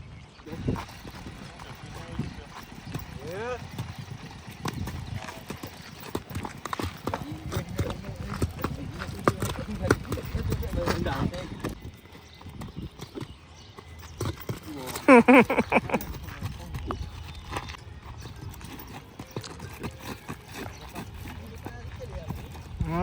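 Horse hooves clip-clop in a steady rhythm during a horse ride, close and fairly loud, with people talking and shouting over them and a brief louder burst midway.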